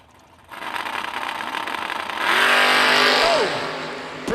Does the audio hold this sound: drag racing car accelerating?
yes